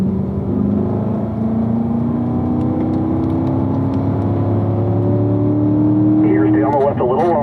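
A race car accelerates on a track at Spring Mountain, its engine whining and rising steadily in pitch, loud and close from inside the car, with an instructor talking over it.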